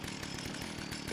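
A chainsaw in the video game Fallout 76 revs with a continuous, buzzing, gritty drone at fairly low volume, steady throughout without pauses.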